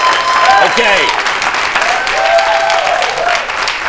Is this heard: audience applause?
yes